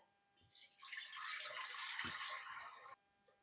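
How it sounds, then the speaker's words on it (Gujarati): Water poured into a pressure cooker, a steady splashing rush lasting a few seconds with a small clunk in the middle, fairly quiet and alone. "કુકરમાં મિત્રો હવે પાણી નાખીશું"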